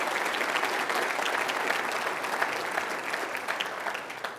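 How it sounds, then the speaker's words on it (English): A sold-out crowd at a city address applauds the Burnaby Board of Trade, a steady dense clapping that runs on for several seconds and eases off slightly toward the end. "let's hear a big round of applause for all Burnaby Board of Trade"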